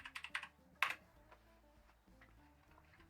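Keys on a computer keyboard click in a few quick bursts of typing, followed by a brief cluster of strokes, quiet and close, with a near-silent pause between and no talking.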